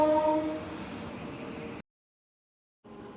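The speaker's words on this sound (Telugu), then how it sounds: "ఇప్పుడు ఒక ట్రైన్ వస్తుంది" A passenger train pulls into a station near a Chennai market, with a loud, steady rumble and drawn-out horn tones for nearly two seconds before a sudden break and a brief return of noise.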